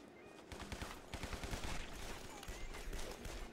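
A Tommy gun in the game Guns, Gore & Cannoli fires continuous rattling automatic bursts, loud and close, with rapid shot rhythm running throughout and slight pauses between volleys.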